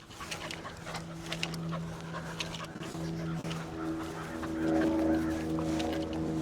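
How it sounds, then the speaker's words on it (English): A dog pants quickly and rhythmically at close range while running in an open park field, with faint whimpers, as a person talks over it. "I like taking my dog here to run."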